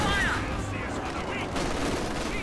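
Gunfire rattles through a WWII strategy video game battle where British Valentine tanks face German armour, with dense, continuous bursts of shots under a steady roar and faint background voices.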